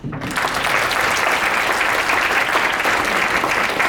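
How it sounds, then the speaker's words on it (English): Luncheon audience breaks into applause, a dense sustained burst of clapping that starts abruptly and holds at a steady, loud level throughout. "Round of applause."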